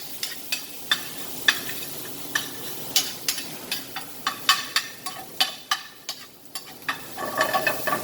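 Bacon sizzles in a pan on reduced heat while grits are stirred nearby, a soft constant fry broken by sharp, rhythmic scraping clicks of the spoon, close and fairly quiet.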